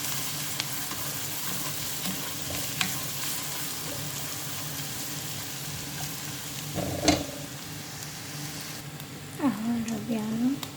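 Garlic and ginger fry in a pan with a continuous close sizzle, broken by a few sharp stirring clatters and a brief voice near the end.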